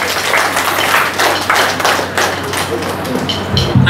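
Audience at a college of horticulture freshers day function clapping for the student working committee, a steady wash of many hands at moderate loudness with faint voices mixed in throughout.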